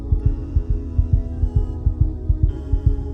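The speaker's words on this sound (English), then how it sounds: "The heartbeat" A heartbeat sound effect thumps in a steady rhythm, about a dozen deep paired beats over a low sustained hum.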